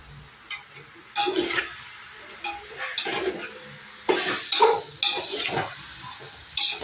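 Vegetables are stirred in a cooking pot with a utensil, giving repeated scraping and clinking strokes over a soft sizzle, close and fairly loud, with no talk.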